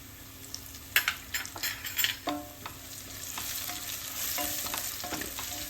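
Onions sizzle steadily in a pan while a spoon stirs them, with clattering scrapes against the metal early on and then a continuous close frying hiss, for a jackfruit curry.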